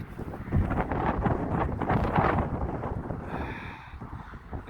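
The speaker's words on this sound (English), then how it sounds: "It's so windy out here." Strong outdoor wind buffets the microphone with a loud, steady rumbling roar during metal detecting, swelling and easing slightly before dropping off near the end, no talk.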